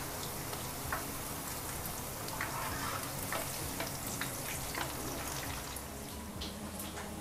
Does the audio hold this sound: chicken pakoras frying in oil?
yes